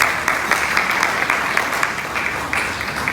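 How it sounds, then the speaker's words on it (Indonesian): An audience at a Harley-Davidson club's first anniversary gathering applauds steadily, a dense even patter of many hands clapping at moderate loudness from start to finish. "Tepuk tangan buat Om Ko Acong"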